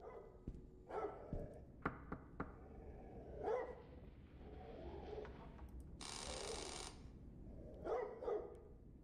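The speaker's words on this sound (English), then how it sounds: "I hear a dog barking." A dog barks in short separated bursts inside a video game, with a brief ringing tone partway through and quiet gaps between the barks.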